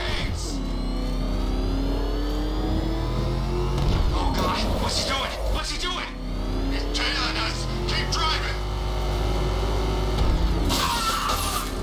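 A car engine revs and drones while driving during a chase in Batman: Arkham Knight, loud and continuous, with the pitch rising and falling through gear changes, under intermittent voices shouting.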